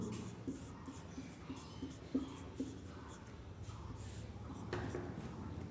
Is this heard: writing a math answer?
yes